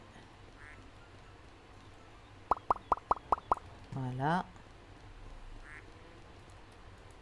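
Ducks quack in the Farming & Supermarket Simulator video game: six quick clicking plops in a row, then a short nasal quack, under quiet game ambience and someone speaking.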